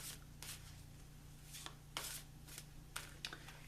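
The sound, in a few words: shuffling cards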